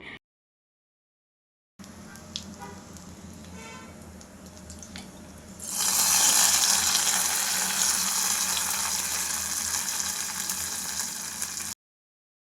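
Hot ghee tempering with chilli and curry leaves hits a pot of pongal. A quiet stretch breaks into a sudden loud, sustained sizzle and crackle that carries on evenly until it stops.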